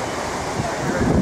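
Strong wind gusts over the sea near Sydney Opera House, buffeting the microphone in a steady roar with surf mixed in, building slightly toward the end of a brief stretch.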